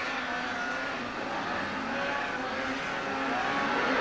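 Racing snowmobiles, Semi-Pro 3 class including a Polaris, roar past at a 1996 winter circuit race at Haystack, a continuous loud engine whine holding steady as the pack streams by nearby.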